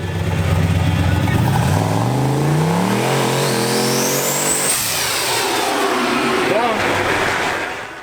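A turbo LS-swapped Nissan truck revs hard through a burnout at a streetcar event, its engine climbing in steady loud pitch sweeps, then easing and holding a sustained roar with tire squeal near the end.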